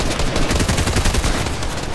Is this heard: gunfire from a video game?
yes